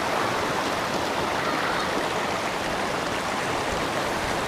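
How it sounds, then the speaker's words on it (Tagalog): The Dumaka River, fed by water from Mount Banahaw, rushes in a steady, dense wash of flowing water that stays constant and fairly loud throughout, with no voices. "Kumbaga ito po ay Dumaka River."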